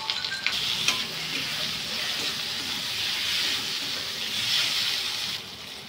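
Turmeric and chili powder sautéing in hot oil in a pan, a continuous close sizzle and hiss with soft stirring scrapes and a few sharp clinks near the start, no voices.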